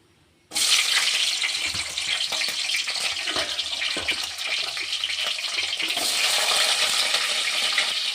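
Green chillies and onion drop into hot oil in a kadai and burst into a loud, close, sustained sizzle after a brief quiet start. The sizzle continues steadily throughout, with no voices.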